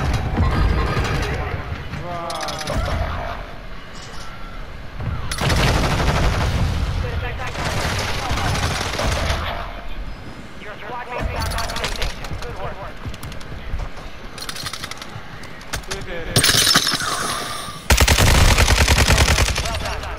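Cluster gun fire in a shooter video game rattles in loud bursts and volleys, broken by pauses and joined by heavy blasts, while players talk excitedly over the action.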